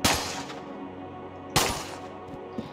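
Gunfire in the video game Enter the Gungeon: two sharp broadband shots, one at the start and another about a second and a half later, each with a decaying tail, plus a smaller pop near the end, over a low steady game hum.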